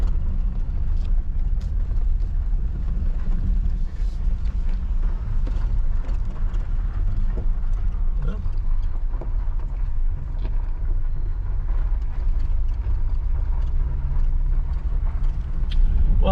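An offroad vehicle rumbles steadily along a forest trail in the Ouachita National Forest, a continuous low engine drone with wind buffeting and occasional bumps and rattles, no talk.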